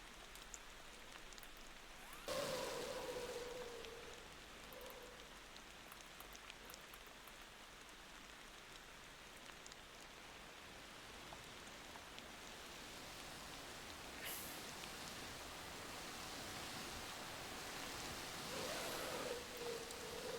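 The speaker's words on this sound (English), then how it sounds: "I also don't really like that it's raining right now" Rain falls steadily in the truck driving game Motor Town, a faint, even hiss of drops that runs for the whole stretch, with a few soft tonal sounds and brief swells over it.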